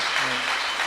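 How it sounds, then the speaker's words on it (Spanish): A church congregation applauds during a service, a brief burst of dense clapping heard over a faint trace of voice. "¿Cuánto le dan un aplauso al Señor por eso?"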